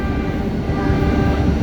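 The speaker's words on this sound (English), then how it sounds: "I'm right now on the Staten Island Railway" A Staten Island Railway train rolls along with a steady, loud rumbling roar heard from on board, with no talking.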